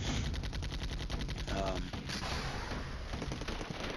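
Small arms and 25 millimeter cannon fire in the wargame Flashpoint Campaigns: Red Storm, a dense, continuous rattle of rapid automatic bursts at steady loudness with no pause.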